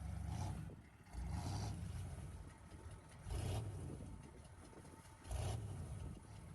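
A truck engine idles in Forza Horizon 4, a low steady rumble that swells in periodic surges about every two seconds, fairly quiet and heard alone.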